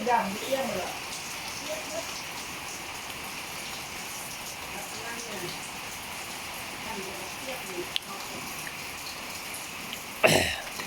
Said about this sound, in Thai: ฝนตกเดือน12ลาว